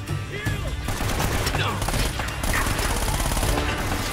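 Sustained gunfire from the video game Uncharted: Drake's Fortune, a loud dense fusillade of rapid shots over a busy game soundtrack, with no break across the moment.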